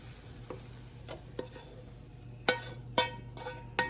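Chili ingredients with ground turkey and beans being stirred in a pot, a spoon knocking and scraping in a few sharp clacks that come faster toward the end over a low steady hum.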